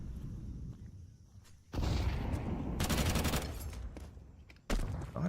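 Bursts of AK rifle fire crackle in the Counter-Strike 2 match, with loud dense volleys breaking over a quieter background hum, then a brief lull and another sharp burst near the end.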